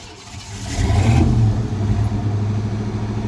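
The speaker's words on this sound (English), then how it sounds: "Let me see if it'll start. It may not, because you have to crank it a couple times." A truck engine cranks briefly and catches, surging loud, then settles into a steady, rough idle up close; the timing is set high.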